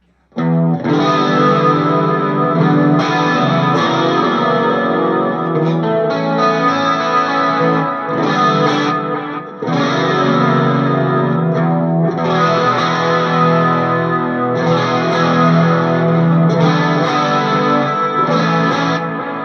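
Distorted electric guitar played through a Line 6 Powercab 112+ cabinet and picked up by a Shure SM58 microphone in front, with thick chorus and echo effects, loud and sustained in phrases separated by brief pauses.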